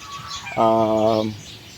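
A single drawn-out harmonic call from one of the Italian Black Australorp chickens in a breeding flock, loud and close, about three-quarters of a second long, rising out of a low background hiss and then fading.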